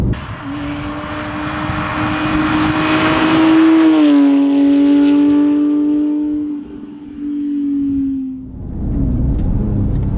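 A Porsche 911 997.1 GT3 engine roars loudly on a race track, its pitch climbing under throttle, then easing off and building again.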